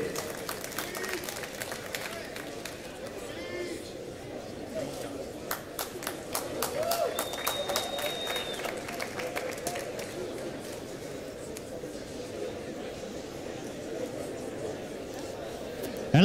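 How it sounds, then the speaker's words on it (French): Audience at the ITSF table football World Cup opening ceremony in Nantes clapping for the Warrior company guests, a broad patter of applause rising then settling under a presenter's voice over a hall PA. "let's have another round of applause for these gentlemen"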